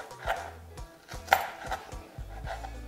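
A knife chops onion on a board during Congolese home cooking of plantain and catfish. The sharp, close cuts come in an irregular rhythm of about eight, with one louder clack midway and no talk.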